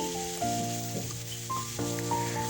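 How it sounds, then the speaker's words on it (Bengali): A capsicum and onion mixture sizzling in hot oil while being stirred, a steady hiss with occasional stirring bumps under background music. "সেটা আমি এবার তেলের মধ্যে ফেলে দিলাম এটা একটু নেড়ে চেড়ে নিয়ে নিচ্ছি"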